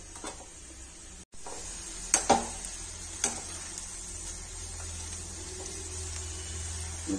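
Onion pakodi fry in hot oil with a steady, quiet sizzle and bubbling, broken by a few sharp clinks and taps of a utensil against the pan.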